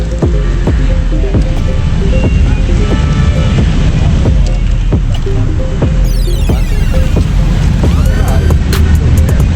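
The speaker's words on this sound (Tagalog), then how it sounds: "lumalakas na yung ambon, nagiging ulan na siya" Drizzle building into steady rain, a loud continuous wash with wind buffeting the microphone and scattered louder patters and knocks.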